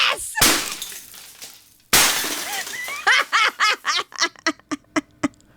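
A lock is smashed with a King Dick tool, giving a sharp shattering crash near the start and another around two seconds in. A run of quick squawking sounds follows.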